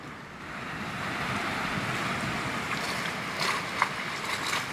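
Incoming tide waves wash onto an Auckland North Shore beach as a steady, close surf roar with wind noise, brief splashes standing out near the end.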